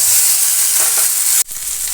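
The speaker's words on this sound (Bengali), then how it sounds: "হলুদ দিয়ে সাথে সাথে কপিটা আমি ঢেলে দেব।" Hot mustard oil with a pinch of turmeric sizzles loudly and steadily, a bright, dense crackle that cuts off abruptly near the end and then resumes, as cauliflower florets are tipped into the pan over high flame.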